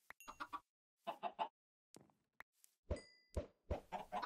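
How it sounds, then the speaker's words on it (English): Chickens in the video game Minecraft cluck in several short, close bursts separated by brief silences. "Feed the chickens."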